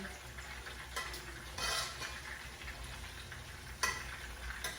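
Rice fries in a pan with a steady, soft sizzling hiss, interrupted now and then by brief stirring scrapes of a utensil in the pan.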